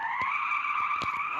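Car tires skid and squeal in a car crash simulation game, a steady bright screech held throughout with a few short knocks and clicks near the end.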